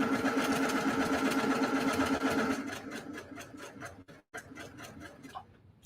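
A domestic sewing machine stitches across a nested quilt block seam, a rapid close mechanical whirr and rattle that slows into separate stitch thumps, pauses briefly, then taps out a few final stitches.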